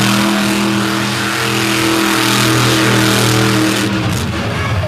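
A Brian Bartle-built race truck engine at Fowlerville roars loudly and steadily up close in a sustained revving drone, its pitch climbing toward the end.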